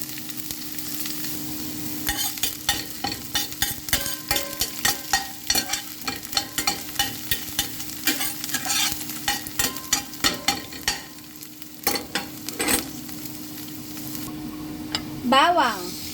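Chopped onion hits hot cooking oil in a pan and sizzles steadily, with rapid scraping and clattering stirs across the middle stretch, a sharp burst of frying near the end, all close and fairly loud.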